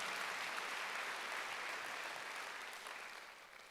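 A church congregation applauds during a Wednesday worship service, a steady, fairly distant wash of many hands clapping together that holds evenly for a few seconds before tapering slightly at the end.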